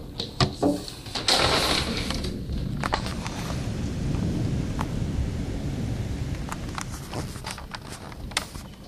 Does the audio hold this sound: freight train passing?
no